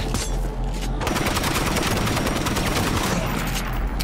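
Rapid, continuous automatic gunfire rattles loud and close in State of Decay 2, one unbroken burst of shots lasting several seconds.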